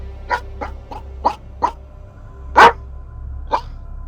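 A dog barks in a series of short, sharp barks spaced irregularly over a few seconds, with one louder bark standing out near the end, over a low background hum.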